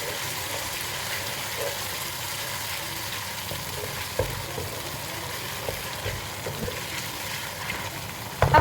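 Chopped tomatoes are stirred into mutton frying for pulao, giving a steady sizzle with occasional scraping knocks of the spoon against the pot, fairly close and continuous.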